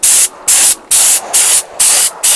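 A paint spray gun hisses in loud, even bursts, applying base colour to a Yamaha Fazer 600, five or six short sprays in a steady rhythm with brief pauses between them.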